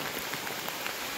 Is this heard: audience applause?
no